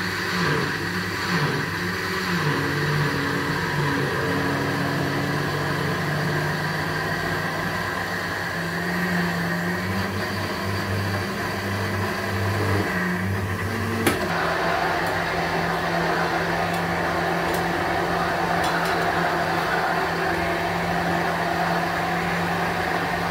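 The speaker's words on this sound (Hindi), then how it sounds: "अच्छी तरह हुण असीं ना इहनूं भी ब्लेंड कर लवांगे।" A kitchen blender grinding soaked moong dal with water into batter, a loud continuous motor whir whose pitch wavers and shifts as the load changes, running for over twenty seconds with a brief knock midway and no talking.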